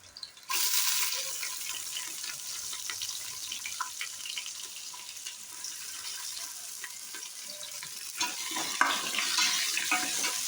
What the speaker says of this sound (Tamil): இப்போது வெங்காயம் சேர்த்துடலாம்